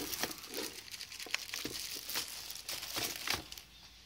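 Plastic wrapping crinkles and rustles as a Multilaser Lightning TC195 gaming keyboard and mouse are unwrapped, a close run of irregular crackling bursts and soft tearing sounds with no talk.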